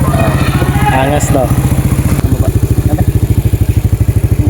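A small motorcycle engine idles nearby with a loud, steady chugging pulse throughout, while a person talks over the start.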